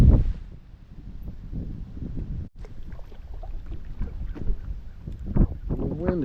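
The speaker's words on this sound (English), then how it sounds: "The wind has changed direction" Wind buffets the microphone on an open lake during fall panfish fishing, a steady low rumble with occasional gusts. Someone speaks quietly over it, and a short dropout cuts the sound midway.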